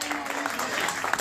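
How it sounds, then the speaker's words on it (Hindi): Audience at an annual function of a physiotherapy and cerebral palsy rehabilitation centre clapping in a dense, continuous burst of applause, fairly close and loud. "जोरदार तालियां मौलिक के लिए।"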